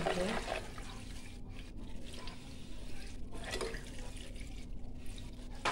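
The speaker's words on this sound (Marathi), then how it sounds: "पाणी हळूहळू घालायचं आहे" Water splashes and trickles steadily into a pot of ground masala paste while cooking crab curry, a continuous wet rushing sound with voices talking faintly in the background.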